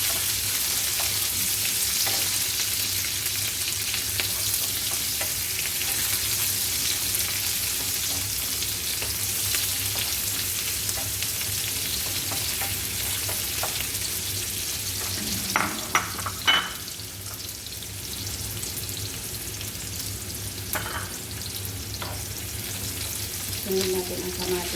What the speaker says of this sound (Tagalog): Haluin natin hanggang maging brown.